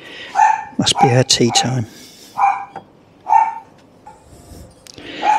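A dog barks a few times in quick yips close by, while a person speaks briefly over the barking.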